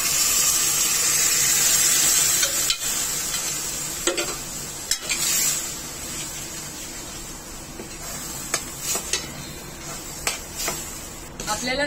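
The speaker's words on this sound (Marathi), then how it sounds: "मसाले तेलामध्ये चांगले परतून घ्यायचे आणि त्यामध्ये आपण तयार करून घेतलेली ग्रेव्ही घालायची." Prepared gravy poured into spices frying in oil for paneer butter masala gives a steady, close sizzle with stirring scrapes and a few sharp clinks of utensils against the pan.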